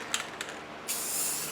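A Rust-Oleum Custom 5 in 1 spray paint can with selectable nozzles gives a couple of short clicks, then a steady hiss of spray for under a second, close and moderately quiet.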